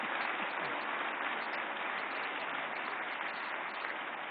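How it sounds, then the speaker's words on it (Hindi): Loud, sustained applause from an audience greeting veteran actress Waheeda Rehman at the Dadasaheb Phalke Award ceremony, a dense, even wash of clapping that holds steady throughout with no pauses and no voices. "जोरदार तालियों से स्वागत करें वहीदा जी का।"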